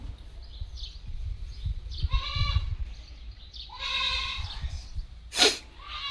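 A goat bleats twice in drawn-out, wavering calls over a low outdoor rumble, with a brief sharp snort-like burst near the end.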